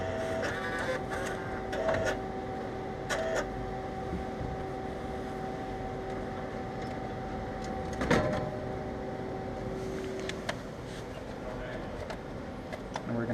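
A photo booth printer runs with a steady mechanical hum and whir, and brief clicks and thumps rise above it now and then. A person speaks faintly in the background.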